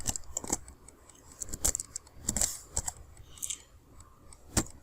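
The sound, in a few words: typewriter sound effect in Camtasia subtitle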